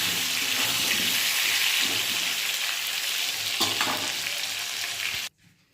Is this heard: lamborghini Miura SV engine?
no